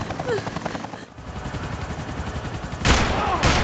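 Max Payne 3 gunfire: rapid bursts of shots crack close and loud, with a heavier burst near the end.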